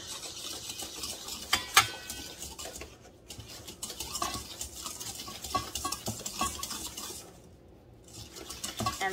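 Egg yolks beaten by hand with sugar in a bowl, a steady scraping and clinking of utensil against the dish with a couple of sharper knocks, close and alone.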